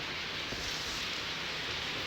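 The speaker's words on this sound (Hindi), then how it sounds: "जो भयानक बारिश हो रही है" Heavy rain pours down in a steady, dense hiss of drops hitting surfaces, close and loud throughout with no voices.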